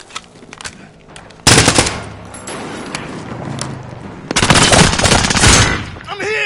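Bursts of automatic machine gun fire during a military shooting game firefight: a loud sustained burst, then a quieter spell, then another heavy rapid volley close by.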